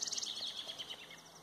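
Birds sing outdoors among tall arbutus and other trees, a quiet, continuous stream of quick, high chirps and twitters carrying on for a moment with no voices.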